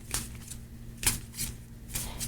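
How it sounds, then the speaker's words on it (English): Linen-finish playing cards being shuffled up close, with a few quick riffle bursts of crisp flicking and snapping separated by short pauses, fairly quiet and with no voices. "And it shuffles really well because it's linen."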